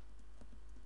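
Quiet rapid keystrokes on a computer keyboard as an IP address is typed, a short run of soft clicks at low level with no talking.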